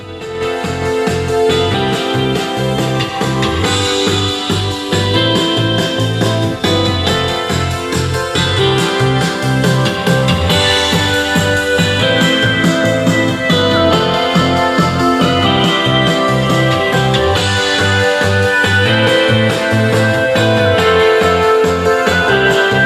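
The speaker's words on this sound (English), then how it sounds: "Now let's hear the Touring's premium audio system." A 2018 Honda Civic Sedan Touring's premium car audio system plays music loudly and steadily inside the cabin for over twenty seconds, with no talking.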